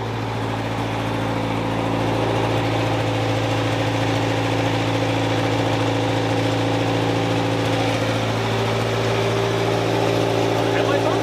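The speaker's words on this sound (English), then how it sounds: "Runs good. Even with the exhaust leak, that's like quiet." A 1964 Scout 80 engine idles steadily just after a tune-up, with a slight exhaust leak, giving a loud, even, low rumble that runs the whole time with no breaks.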